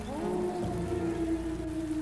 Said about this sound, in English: I drove through the rain, gripping the wheel tightly.